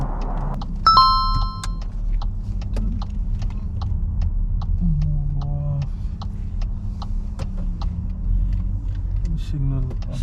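A car engine idles and runs with a steady low rumble during a driving mock test, with ticking indicator-like clicks and light interior rattles over it and a voice speaking briefly near the start.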